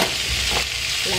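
Garlic frying in a pan as the base for paella, a steady, close sizzle with bubbling crackle and a hint of stirring, no voices.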